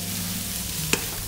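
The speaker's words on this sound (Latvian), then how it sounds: "Un ziedkāpos šādi cepot" Grated cauliflower rice fries in a pan with a loud, steady crackling sizzle, broken by a single sharp click near the end.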